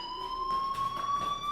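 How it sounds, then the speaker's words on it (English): A school fire alarm in the video game Life is Strange sounds a steady, shrill electronic tone, continuous and fairly loud, with faint background noise beneath it. "Hey, do you hear that fire alarm?"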